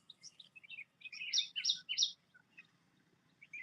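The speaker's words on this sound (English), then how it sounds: "I hope this tree has got that bird which is having a chirping sound." A bird in a tree gives a quick run of high, bright chirps, several close together peaking midway, then fading to sparse faint notes, alone in a quiet outdoor setting.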